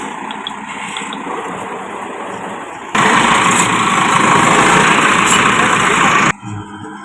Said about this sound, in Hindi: ये ट्रैक्टर दूसरी तरफ जाते हुए